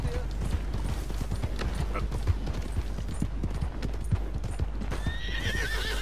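Horses gallop and neigh in Red Dead Redemption 2, with a rapid clip-clop of hooves throughout and a clear whinny near the end, while people talk over it.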